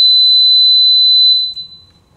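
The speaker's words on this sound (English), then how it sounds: "So now we have the audible alarm installed." A fuel leak alarm on a containment tray sounds loud and shrill in one continuous electronic tone, then stops abruptly, leaving a faint hum.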